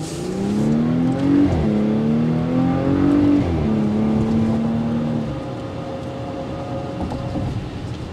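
A 2022 Porsche Cayenne accelerating hard, its engine note climbing through rising sweeps with two brief dips at gear shifts, then settling into a steadier, quieter cruise by the end, with no talking over it.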